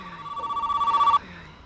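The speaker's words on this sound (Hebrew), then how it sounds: "טלפון." A telephone rings indoors with a bright, warbling electronic trill that pulses rapidly for just over a second and then stops abruptly.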